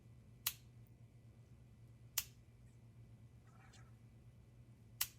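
A Ridge bolt action pen clicks three times at uneven intervals, each click sharp and close against a quiet background with a low steady hum.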